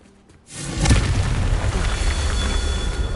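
A fiery Confringo spell blast in Hogwarts Legacy, a sudden booming burst that swells at once and rolls on as a loud, sustained rumble with crackling debris.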